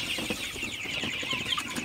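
Sonali super hybrid chickens at 45 days old cluck and chirp softly at night in their shed, a steady close chorus of overlapping calls with no talking.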